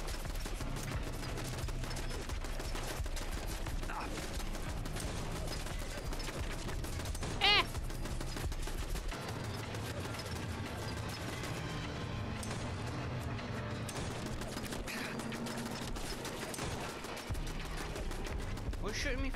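Turret fire in Fallout London comes as steady, muffled rattling gunshots over a low mechanical hum, with one sharper impact partway through and a voice talking intermittently.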